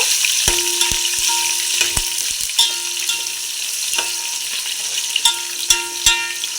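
Onion pieces frying in oil for chicken dum biryani, a steady close sizzle broken by sharp, repeated clanks of a spoon stirring against the pot, with no talking.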